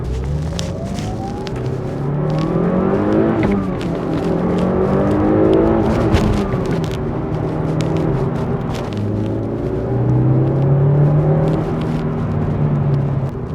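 Mitsubishi Lancer Evolution 5 RS engine pulling hard through the gears while driving, a steady loud rumble with rising and falling revs across a downshift and continued acceleration, heard from inside the car.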